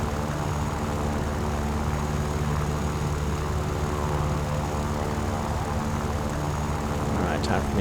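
Yak-9K propeller fighter in War Thunder on realistic mode, its aircraft engine droning loud and continuous near an airfield during a landing approach, with a steady buzzing roar throughout.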